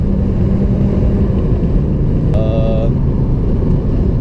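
A lowered BMW E36 318is pulls hard in third gear at full throttle, its engine drone loud and continuous from inside the cabin, with a brief chirp midway through.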